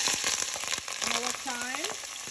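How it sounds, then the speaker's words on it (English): Onions dropped into very hot oil, a dense sizzle with rapid crackles and a few scraping taps, while a voice briefly rises in the middle. "So our oil is actually getting very hot. We're gonna add our onions"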